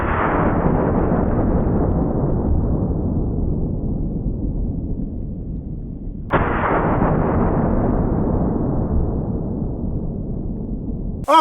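A 10 gauge double barrel shotgun fires two 3.5 inch double aught buck shells outdoors, each a loud, close blast that decays into a long rolling echo, with the second shot coming several seconds after the first.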